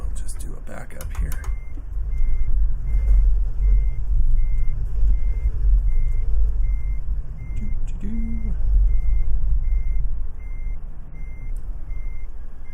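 A truck backing up in American Truck Simulator, its reversing alarm beeping steadily at an even pace over a low, continuous engine rumble, with someone talking at times.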